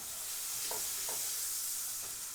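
An egg, ham and cheese toastie sizzles in butter in a pan, a steady bright hiss with a few soft taps, close and even.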